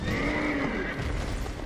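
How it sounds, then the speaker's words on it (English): A horse whinnies once in the video game Dark Souls II, a short, loud, high neigh that falls in pitch, heard alone without talk. "there is a horse"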